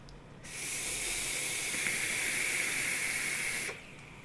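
A Wotofo Ice 3 RDA atomizer gives a steady, airy hiss during one long drag of about three seconds, starting and stopping abruptly, close and alone.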